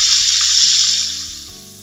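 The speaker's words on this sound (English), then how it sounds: "So now that I took my bacon out, I'm going to saute my onions." Onions sautéing in rendered bacon fat, a loud close hiss of sizzling that gradually softens over two seconds.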